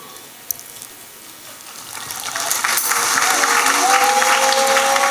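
Applause from a church congregation at a testimony gathering builds from near quiet into loud, sustained clapping and cheering, with high-pitched shouts rising over the crowd.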